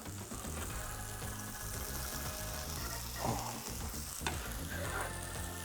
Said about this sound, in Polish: Do tego cebulkę przysmażamy na złoty kolor.